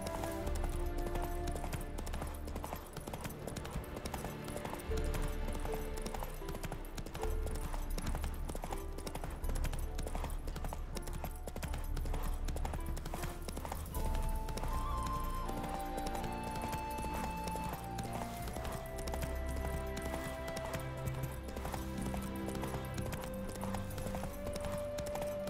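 Steady clip-clop of horse hooves while riding at pace in The Witcher 3: Wild Hunt, continuous rhythmic beats under a bed of game music with a tonal melody on top.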